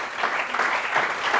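A church congregation applauds to acclaim Jesus, a brief dense burst of clapping filling the space at moderate level.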